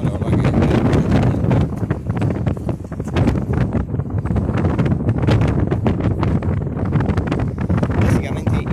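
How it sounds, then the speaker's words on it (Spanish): Strong wind buffets an outdoor microphone beside a harbour with moored sailboats the day after Typhoon Hagibis in Japan, a loud, continuous roar with gusty rumbling throughout. "Está un poco ventoso"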